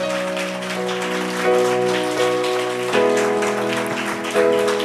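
A church congregation claps along in a steady, dense patter beneath sustained keyboard chords, the hand noise blending into the music at moderate loudness.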